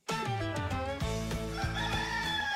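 A rooster crows a single long cock-a-doodle-doo as a radio station ID for WHBN Harrodsburg, close, loud and clear, with no talking over it.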